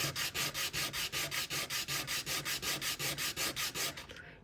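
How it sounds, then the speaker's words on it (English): Rhythmic hand sanding of a shrink plastic cabochon pendant, steady back-and-forth strokes about four per second, close and fairly loud, a rough abrasive rub that fades at the end. "So now I've started to sand."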